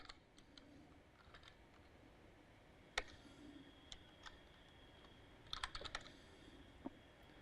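Soft keystrokes on a computer keyboard, typed in short bursts with a few louder clicks, quiet and close over a steady hum of room noise.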